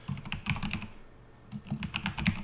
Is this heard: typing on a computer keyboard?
yes